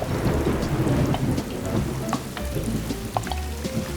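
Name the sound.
rain and thunderstorm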